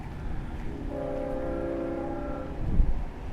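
Long Island Rail Road train horn blaring steadily for about two seconds, a strong sustained multi-tone blast over low rumble, fairly near, with no talk.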